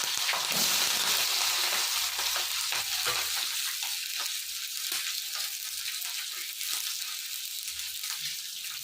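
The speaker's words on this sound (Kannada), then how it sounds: "ಈಗ ಎಣ್ಣೆ ಬಿಸಿಯಾಗಿದೆ ಈರುಳ್ಳಿ ಮತ್ತು ಹಸಿಮೆಣಸಿನಕಾಯಿ ಹಾಕ್ತಾ ಇದ್ದೀನಿ" Onions and green chillies dropped into hot oil, a steady loud sizzle and crackle of frying that carries on throughout with no talking.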